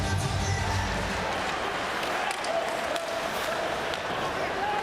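A large ice hockey crowd at a Finland vs. Sweden world championship game roars in a dense, steady wash as a nearly naked fan dances in the stands, with loud continuous cheering and a commentator's voice over it.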